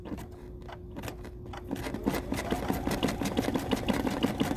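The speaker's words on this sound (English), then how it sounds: "I'm going to reduce the embroidery speed to the slowest that this little machine will do, 350." Small home embroidery machine stitching at its slowest speed of 350, a close, steady rhythmic clatter of rapid needle strokes that gradually builds in intensity.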